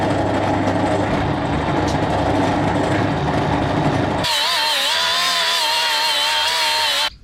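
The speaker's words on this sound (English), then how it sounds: "we're just machining up some 10mm nipples to just join these hoses directly down here" A machine runs loud and close while 10mm hose nipples are machined, a steady grinding drone that shifts to a higher whining tone partway through before cutting off abruptly.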